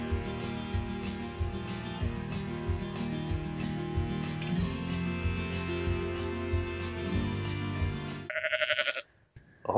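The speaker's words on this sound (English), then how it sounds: "Okay, the sheep is coming for me." Sheep bleat repeatedly and close by on a mountaintop in Montenegro, a run of loud, wavering calls that ends with a short burst of wind-like noise.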